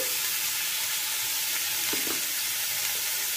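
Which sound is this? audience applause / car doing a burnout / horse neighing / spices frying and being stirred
spices frying and being stirred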